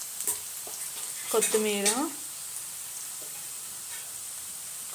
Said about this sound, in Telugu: ఇంకొంచెం ఒక 1 minute అట్లా ఫ్రై చేసుకోవాలి